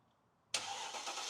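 Mercedes G55 engine cranking and firing up after an ECU repair, a sudden loud catch out of near silence settling straight into a strong, even idle.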